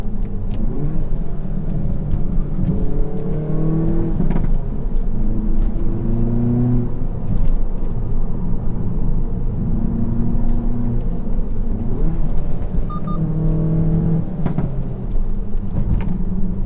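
A Hyundai i30N accelerates up a winding hill road, its engine note rising through repeated gear changes, loud and continuous from inside the car with steady road rumble beneath.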